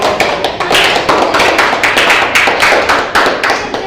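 A group of people in a classroom-style gathering applaud together, a loud, dense burst of rapid overlapping claps that stays steady and close for several seconds with no talking.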